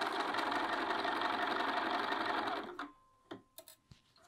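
A sewing machine stitches a sleeve for a Scout tee, running in a steady loud whir for a few seconds, then stopping, followed by a few soft clicks and handling taps.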